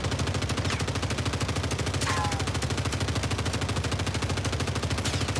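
Rapid gunfire from Warzone 3 rattles in a steady, continuous automatic stream, loud and unbroken.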